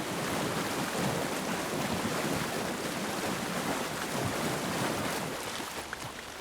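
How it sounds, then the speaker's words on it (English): Steady broadband wash of water in the Alan Wake 2 video game, a continuous rushing, surf-like roar with a wind-like hiss, unbroken and fairly loud throughout, easing slightly near the end, with no talking. "Those are definitely some water effects."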